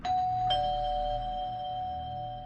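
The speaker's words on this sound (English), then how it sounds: "he accidentally rings the doorbell" A two-tone doorbell chime rings out clearly, its bright tones ringing on and slowly fading, with a low hum underneath.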